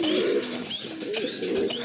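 Domestic pigeons, including a hen guarding her young and in an aggressive, attacking mood, coo in close, repeated throaty phrases with a few higher chirps mixed in, steady and fairly loud without talk.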